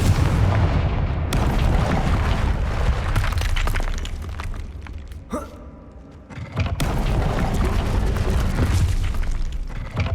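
Loud booming blasts from Confringo spells in the game Hogwarts Legacy, heavy rumbling impacts that dip into a brief quieter stretch before the explosions pick up again, with no talking.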